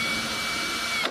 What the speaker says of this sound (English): So I'm just gonna take the drill and touch off